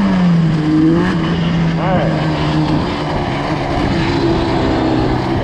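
A Yamaha Banshee ATV engine runs in second gear, a loud close buzzing two-stroke drone with rising and falling pitch sweeps throughout.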